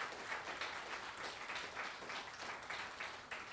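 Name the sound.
applause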